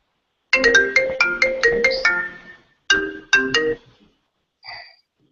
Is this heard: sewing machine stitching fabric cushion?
no